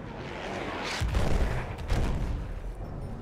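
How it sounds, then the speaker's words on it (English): Gunfire rattles in Battlefield 1, with bursts of heavy, booming shots peaking near the middle of a short stretch and spreading out into a loud clatter from middle distance. "A machine gun."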